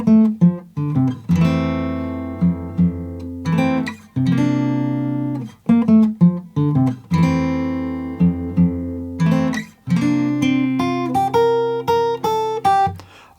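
Fingerstyle acoustic guitar in standard tuning playing a song intro: clear plucked notes and ringing chords in a slow phrased rhythm, played solo and close with short pauses between phrases.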